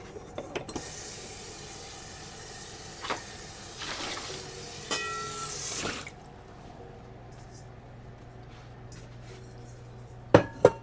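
A bowl rinsed under a running tap while cookies are being baked, with steady broadband water flow for about six seconds and a few clinks and knocks, followed by quieter handling and two sharp knocks near the end.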